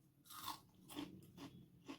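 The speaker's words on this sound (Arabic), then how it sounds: "سامعين القرمشه اهو، وريحته جنان جنان جنان، وطعمه مقرمش وجميل." Crunchy fried cauliflower is bitten and chewed up close, giving four sharp, crisp crunches in a steady rhythm, quiet and with no talk over them.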